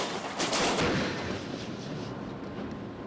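During a Caltrans crash test, a vehicle slams into a bridge rail with a sudden loud, booming impact that crashes briefly and then fades into a rumbling, noisy tail outdoors.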